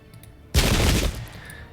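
Massed musket volley from the Pike and Shot strategy game, a single loud crackling burst of many shots fired together that swells suddenly, rolls for about half a second and then fades into a softer rumbling tail.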